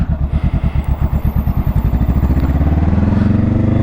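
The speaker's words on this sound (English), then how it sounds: "figured I'd record this ride since it's been, I don't know, 2 weeks since I've been on the bike" A motorcycle engine sounds loud and close, chugging in a rhythmic low pulse that quickens and smooths into a steady drone as the bike picks up speed.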